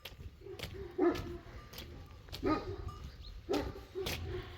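Dogs bark in a few short bursts at irregular intervals, moderately loud and somewhat distant, over a faint outdoor background.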